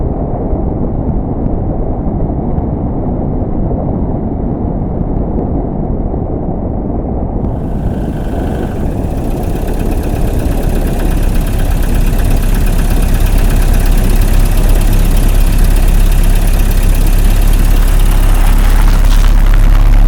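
A 2009 Honda Civic's engine starts cold and settles into a loud, steady idle, a continuous low rumble with a brief change around the start-up before holding an even hum close by.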